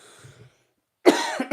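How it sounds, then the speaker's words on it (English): A single harsh cough bursts out close by after a quiet stretch, followed by a couple of shorter rough hacks, with faint background murmur at the start. "That's not going to stop my cough"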